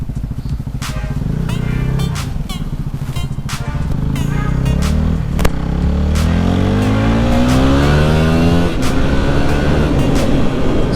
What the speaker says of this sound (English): Bike gets up and goes for a 250